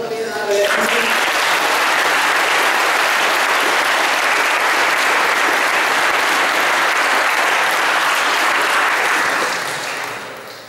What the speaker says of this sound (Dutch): Applaus voor jullie alle leraren.